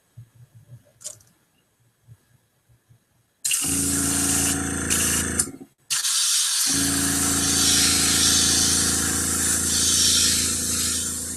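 A few quiet handling taps come first, then a paint spray gun hisses loudly and continuously, breaking off briefly and resuming for a long, even light-dusting pass.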